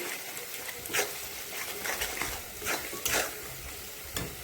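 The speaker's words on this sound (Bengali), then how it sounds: "এখন এই মশলাটা ভালো করে ভেজে নেব" Spice masala of ginger paste, turmeric, salt, chilli powder and coriander-cumin powder fries in a pan with a continuous close sizzle, overlaid by repeated scraping stirs at an uneven rhythm, and no one speaking.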